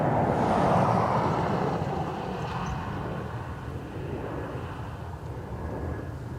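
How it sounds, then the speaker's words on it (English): Ryanair airliner departing Dublin Airport, a loud broadband jet roar that swells early and holds steady as it climbs away, with wind buffeting the microphone. "Ryanair making a racket on the way out"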